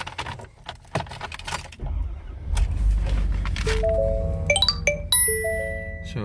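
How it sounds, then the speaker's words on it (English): Keys jangle and an ignition switch turns in a truck, followed by the engine's low rumble and a series of bright electronic chimes from the cab, close and loud, with no talk. "Just give me 1 second to start this beautiful truck."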